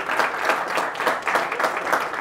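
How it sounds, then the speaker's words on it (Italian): Audience applause following an interview at the Host 2021 trade fair, a steady wash of many hands clapping with a regular pulsing texture, moderately loud and without talk. "un applauso"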